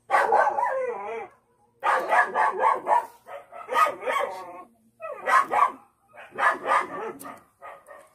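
Neighborhood dogs bark loudly and repeatedly in bursts, with several dogs yapping and howling over one another across the stretch, close and insistent with short pauses between volleys.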